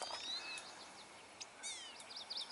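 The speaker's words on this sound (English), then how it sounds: "Listen to this bird up here." A bird sings overhead in a forest, bright whistled chirps and quick trilled phrases coming in short bursts over quiet background, fairly faint and with no talking.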